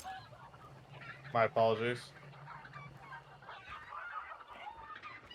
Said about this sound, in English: And the chicken should die down soon